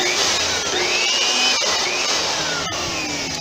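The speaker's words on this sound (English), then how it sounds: "the Torelli little blower" A small Torelli blower whines steadily at close range while dry cleaning a 1989 S10 crankcase, its pitch sweeping up and down as the airflow shifts, with a couple of brief clicks.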